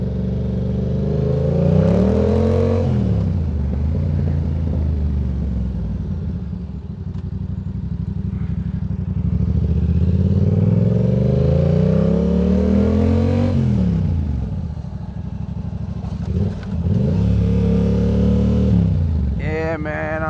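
Yamaha R7 motorcycle engine revving hard in loud rising and falling sweeps, with popping and crackling on the overrun, close and continuous with talk over it.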